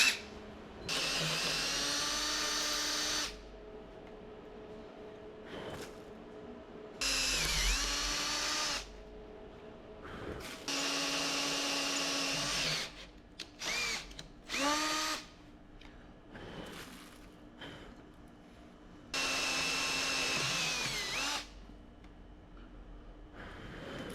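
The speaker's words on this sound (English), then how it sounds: "Next, we'll drill it 5/16 of an inch." A power drill bores a 5/16-inch pilot hole into cast iron in several bursts of a few seconds each, with a whining motor and grinding bite, separated by quiet pauses and clatter.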